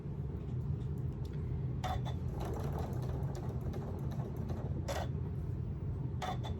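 A sewing machine stitches a quarter-inch seam in fabric for a stuffed elephant, a steady low mechanical hum with a few sharp clicks and rattles rising above it.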